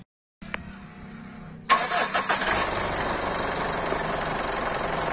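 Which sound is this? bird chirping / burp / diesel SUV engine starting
diesel SUV engine starting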